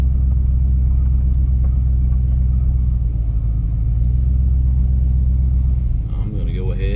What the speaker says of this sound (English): I'm going to go ahead and see about pulling her square in the garage